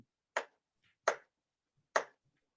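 A wooden gavel struck three times at a Toastmasters club meeting, three sharp, evenly spaced knocks about three-quarters of a second apart, each loud and close with a quick decay, in an otherwise quiet room.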